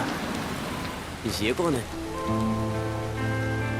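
Steady rain falls in the background of a Hindi-dubbed film scene while someone speaks briefly over it, followed by a sustained musical tone.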